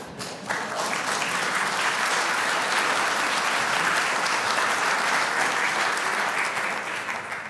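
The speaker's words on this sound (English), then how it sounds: "You can applaud" Warm audience applause at a tribute gathering for Rabbi Daniel Friedman, clapping swelling quickly after a brief pause into a dense, sustained ovation that holds steady for several seconds before easing slightly.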